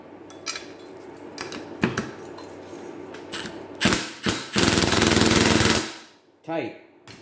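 A torque wrench with a 13 socket tightens a bolt on a leaf blower, giving close ratcheting clicks and metallic clatter in short bursts, then a longer sustained rattle before stopping.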